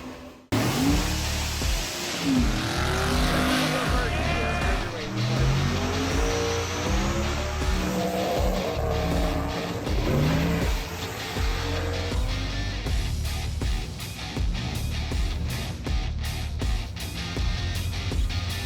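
A Ford Mustang race car prepared for Sick Week drives hard, its loud engine climbing and dropping through repeated revs and gear changes, with tire noise as it passes close by.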